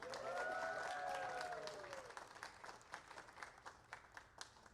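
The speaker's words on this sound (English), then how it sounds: "Let's give them a round of applause." Wedding guests break into applause after a melodic instrumental phrase fades, the clapping continuing as a moderately distant crowd patter with a few sharper individual claps toward the end.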